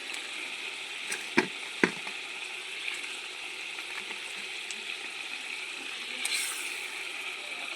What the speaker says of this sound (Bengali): গ্রেভিটা আমাদের ফুটতে শুরু করেছে। এবার একে একে ভেজে রাখা মাছগুলো দিয়ে দেবো।